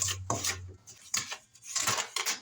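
Spoon clinks and scrapes against a bowl while stirring nutmeg, cinnamon, salt and sugar for apple pie filling, a few separate close taps and scrapes with no voice.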